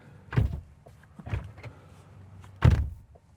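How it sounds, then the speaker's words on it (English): A frameless car door on an XPENG P7+ thuds shut three times in a row, each a heavy, close, low-pitched slam with a short rattle, separated by brief pauses. "I'm gonna slam the door"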